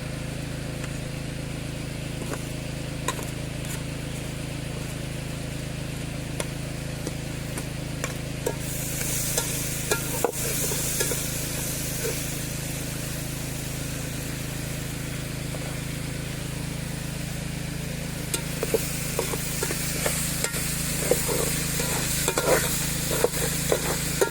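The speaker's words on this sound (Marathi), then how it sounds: "कांदो साधारण तांबूस झालो हा. अजून जरा शिजून घेऊया." Chopped onion, browned lightly, sizzles steadily in a pan at an outdoor riverside cookout, a continuous low frying hiss broken by occasional scrapes and taps of stirring.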